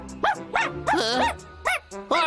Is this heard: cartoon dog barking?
yes